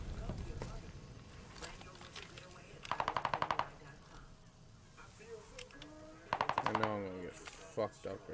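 Machine gun fire in a shooter video game comes in two rapid rattling bursts, fairly faint beneath a player's talking and background battle noise.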